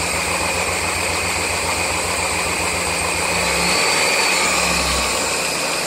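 A 1999 Mazda Miata engine idles steadily with a fast, light ticking running through its low rumble, close and continuous, with no voices.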